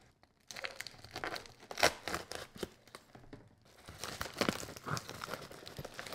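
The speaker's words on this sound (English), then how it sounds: "I'm using my Oz Machine Company Roswell Full DLC version to unbox this. Let's first cut this open." A package is cut open with an Oz Machine Company Roswell full-DLC knife, giving close crinkling, tearing and scraping of packaging in uneven bursts, with a brief pause midway before more rustling.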